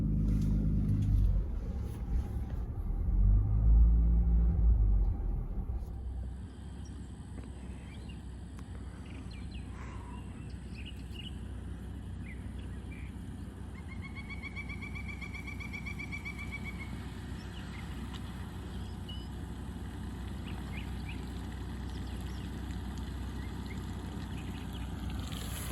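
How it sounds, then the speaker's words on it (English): A 2024 Ford Bronco Raptor in cactus gray drives off-road through water. A loud low rumble and splash comes early, then a steady quieter engine drone with water sloshing, and faint chirping over it. "All right, so we're dipping down into the water now."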